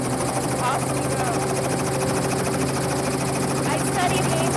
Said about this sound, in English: I'm watching the eclipse from the helicopter